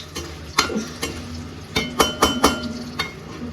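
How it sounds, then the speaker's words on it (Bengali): Eggplant fries in a pan under a low background sizzle, broken by a run of sharp spatula scrapes and knocks against the pan at an uneven pace, close up and without speech. "হচ্ছে বেগুন ভাজা"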